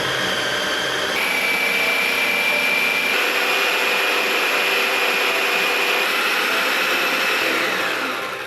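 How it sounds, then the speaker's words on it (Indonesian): A Mecoo 4-in-1 blender grinding spices in cooking oil, a loud continuous motor whine with a high steady pitch that kicks in after a moment and runs unbroken to the end. "Oke guys, ini mau aku blender dulu ya."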